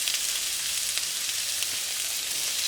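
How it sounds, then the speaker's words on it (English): Pork seasoned with salt, pepper and jerk seasoning sizzles steadily in a hot pan, a dense, even hiss that holds at a constant close level throughout with no stirring or voices. "now I'm going to put the pork that I seasoned with salt and pepper and jerk seasoning"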